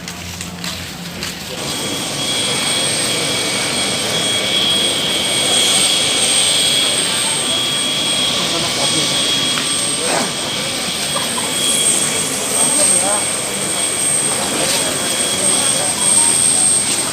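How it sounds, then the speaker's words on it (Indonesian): A helicopter drones steadily and loudly for the whole stretch, a continuous engine and rotor roar with a faint whine on top and no talking. "Helikopter"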